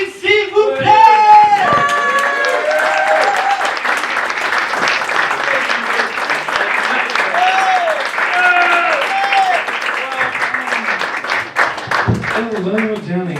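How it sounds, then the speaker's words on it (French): A stand-up comedy crowd in Albi gives loud, sustained applause with cheering and whoops, many hands clapping densely for over ten seconds while voices call out above the clapping. "Un tonnerre d'applaudissements pour Scott Field, s'il vous plaît."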